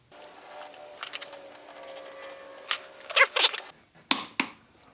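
Tightening a motorcycle front axle on a Honda VFR with a torque wrench: a few short metallic clicks and scraping ratchet bursts at close range, ending in two sharp clacks, with no one talking.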